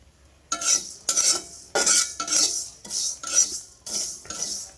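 Panch phoron spices frying and being stirred in a pan, heard as a series of close scraping and rattling strokes with a light sizzle, roughly eight distinct stirring bursts in steady rhythm, no voices.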